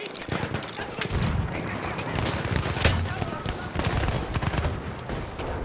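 Rapid automatic bursts from a BAR 1918 rifle in a World War I shooter game on the Prise de Tahure map, layered over dense battlefield gunfire and explosions, loud and continuous throughout.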